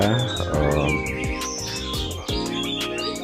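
A kacer, or magpie-robin, sings a rapid, varied song of bright chirps, whistles and sweeping trills, loud and close, continuing without pause and with no talking.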